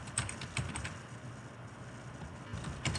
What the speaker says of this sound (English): So I'm going to type in my SAP credentials.